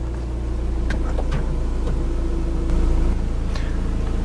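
A 2016 Volvo XC60 D4 diesel idles steadily after starting, a low, even rumble close by with a few faint clicks over it.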